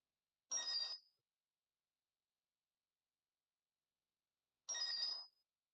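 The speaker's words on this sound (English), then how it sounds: "let me just put vibrate on my phone so that way we don't have to hear my notifications so much" A phone notification chime sounds twice, a short bright tone about four seconds apart, clear and close against silence.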